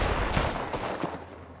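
Video game gunfire crackles in dense, rapid bursts, loud and continuous, with overlapping shots and no clear pauses.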